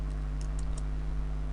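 Several quick, faint keystrokes on a computer keyboard click in brief succession over a steady low background hum.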